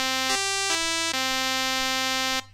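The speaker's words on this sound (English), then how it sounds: "Pulse wave." A nasal, reedy pulse-wave tone from a Roland JX-03 Boutique synthesizer sounds steadily, briefly shifting pitch in quick steps before settling and stopping.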